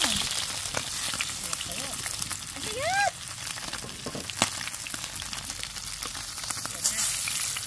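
Rabas, battered squid pieces, fry in a pan with a steady crackling sizzle, close and fairly loud, while a voice briefly rises over it midway and a few clanks sound from the cookware.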